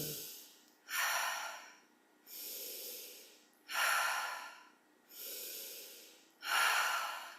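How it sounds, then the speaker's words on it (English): Slow nasal breathing exercise: long, steady breaths repeat in an even cycle, about six audible inhales and exhales over several seconds, close and clear with no talking. "you only want to do nasal breathing"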